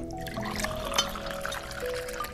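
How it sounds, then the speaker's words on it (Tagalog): Water poured from a container in a home kitchen during a meal, a steady liquid trickle and splash lasting a couple of seconds over faint household background with clinking at the end. "Lalagyan ko ng tubig."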